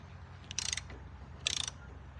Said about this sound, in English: Now we'll take out these 4 drum bolts.